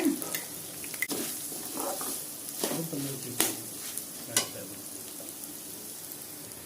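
Asafoetida tempering in hot oil for crisp thavala adai, a close sizzle with a few clinking stirs and utensil knocks scattered across it, and no talking.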